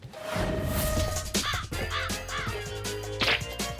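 A cartoon crow caws several times in quick, harsh bursts over busy animated soundtrack noise, close and fairly loud.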